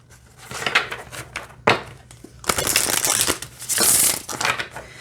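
Crisp papery riffling and snapping of cards being shuffled, several bursts with short pauses, close up and fairly loud.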